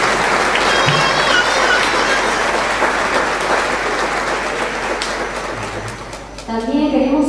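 An audience at a municipal music school event applauds loudly and steadily with dense clapping that fades toward the end before a voice begins speaking.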